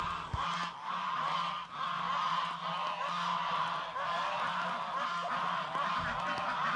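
Geese and ducks on a farm in Laos honk and call continuously in a loud, dense chorus from a flock close by, with no talking.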